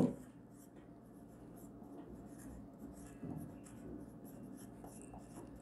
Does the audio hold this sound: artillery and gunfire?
no